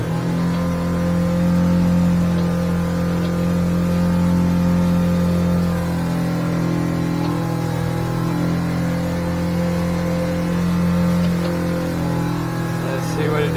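A boat's starboard outboard motor runs steadily throughout with a loud, continuous drone, fitted with cut props, trimmed up while under way on the water.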